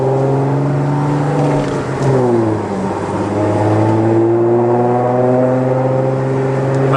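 An Audi S4 with a stage 2 burble tune revs to around 3,000 RPM, its engine note rising and falling in steady harmonic sweeps, loud and close, with no talking.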